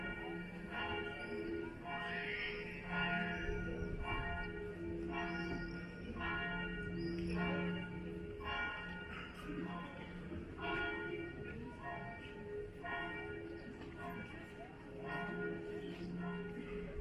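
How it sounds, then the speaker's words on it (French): Newly blessed church bells at Saint Aubin de Guérande ring out during a Pentecost bell blessing, repeated metallic strikes in a steady rhythm with long ringing tones, heard from a little distance amid faint crowd ambience. "tu es la cloche la plus aiguë parmi tes sœurs. Retrouve maintenant ta voix afin de compléter le carillon"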